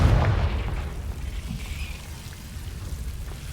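A Confringo blasting spell explodes in Hogwarts Legacy, a deep booming burst at the start that decays into a low rumbling roar fading over a few seconds, with no talk.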